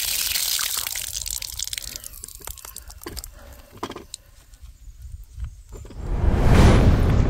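Water gushing from a newly connected supply at a rural garden plot, a broad steady rush swelling loudly near the end, with clinks and splashes beforehand.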